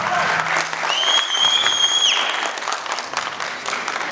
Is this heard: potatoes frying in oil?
no